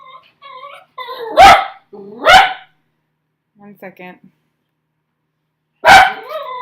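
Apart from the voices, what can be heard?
dog barking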